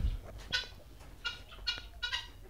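Several short bursts of hen clucking repeat irregularly across a poultry farm, fairly close, with no talk over them.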